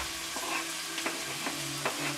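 Carrots and shiitake mushrooms fry with ginger and onion in a pan for a Tibetan cabbage dish, giving a steady close sizzle broken by several soft stirring scrapes, with no talking.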